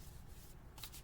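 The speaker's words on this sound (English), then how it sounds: "shuffle my deck" Soft papery riffling of a tarot deck being shuffled, with quiet rubbing and a brighter burst of shuffling near the end.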